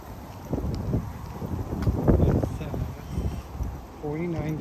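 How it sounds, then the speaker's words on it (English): Wind rushes across the microphone in a steady low roar, with faint voices and distant background noise mixed in. "It's very windy."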